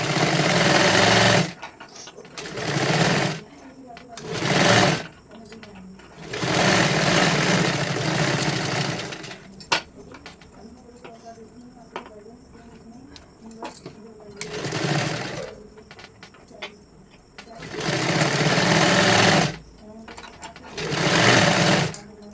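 A sewing machine stitches a size 44 katori blouse in about six loud, close bursts of steady whirring, each a few seconds long. Short pauses separate the bursts, and a voice talks through the quieter stretches.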